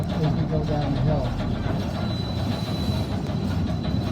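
A steam train runs downhill with its train brake set, wheels rumbling and squealing steadily up close, with a person talking over the rolling noise.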